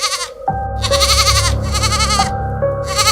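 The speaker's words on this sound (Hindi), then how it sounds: "बकरी जोर जोर से आवाज करने लगी" A goat tied outside a house at night bleats loudly in a drawn-out, wavering series of cries, nearly continuous over a steady low background hum, close and alone with no talk.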